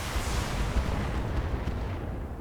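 Dense broadband rumble of SRM missile salvos launching and striking a mech in the Battletech video game, a steady roaring barrage of blasts with no quiet gaps, loud and close throughout.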